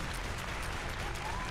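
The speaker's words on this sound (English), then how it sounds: "What's the clapping for?" Steady crowd clapping and applause heard during an online game session, a dense continuous patter at moderate level with no clear gaps.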